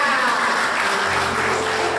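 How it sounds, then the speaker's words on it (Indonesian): A church congregation applauding during a worship service, steady dense clapping filling the whole short stretch with no pause. "Beri tepuk tangan buat mereka"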